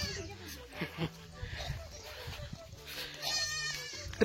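Village goats near Hogenakkal Falls in India bleat nearby in wavering calls mixed with voices talking, over an outdoor background hum.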